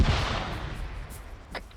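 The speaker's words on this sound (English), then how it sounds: "Gunshots." Distant gunfire in the military shooter ArmA 3 rolls and echoes as a muffled boom decaying over a second, followed by a couple of fainter, sharper shots.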